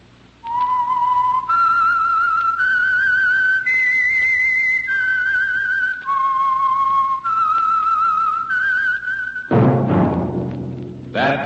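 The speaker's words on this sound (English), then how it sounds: "That whistle is your signal for the Signal Oil Program, The Whistler." A lone whistler carries the theme signal of The Whistler radio program, eleven clear sustained notes stepping up and down in a haunting melody, ending in a low orchestral swell.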